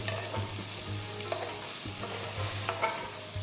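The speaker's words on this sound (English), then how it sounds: "Saute all the ingredients till the onions have turned transparent." Chopped onions, green chillies, ginger and garlic sauteing in a hot pan, a close steady sizzle broken by light scrapes and taps of a stirring spoon, with no talk.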